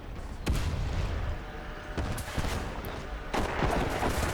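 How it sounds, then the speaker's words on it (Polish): Tank cannon fire in the War Thunder video game: several sharp, booming shots land in irregular succession, with rumbling battle noise between the blasts. "A ja dostaję kolejny strzał od M4,"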